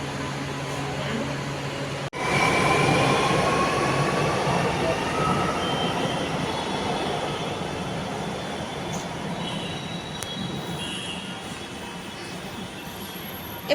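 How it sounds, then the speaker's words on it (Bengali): A metro train runs with a steady, loud rumble and rushing roar that holds for the whole stretch, with a brief dip early on and faint voices in the background. "মেট্রোতে তো উঠেছি আগে বহুবার, বাট এইরকম খালি কোনোদিনও ট্রেন পাইনি"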